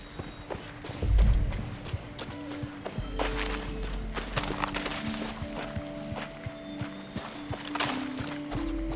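Horse hooves clip-clopping in the video game Far Cry 6, a run of steady hoof knocks over a low ambient game soundtrack, with a horse whinny and a brief thump.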